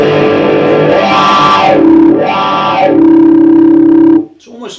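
Electric guitar played through a Fulltone WahFull fixed wah pedal set to whacked mode, a loud, distorted sustained tone with sweeping filtered swells and held notes before cutting off abruptly.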